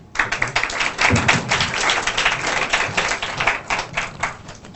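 Sustained audience applause at a technology presentation, dense rapid clapping from many hands filling the room steadily for several seconds, loud and close with no voices over it.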